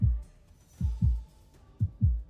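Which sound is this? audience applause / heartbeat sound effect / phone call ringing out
heartbeat sound effect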